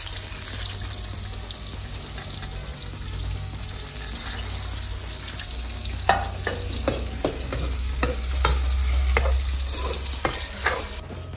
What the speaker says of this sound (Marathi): आता कांदा भाजून घेऊया.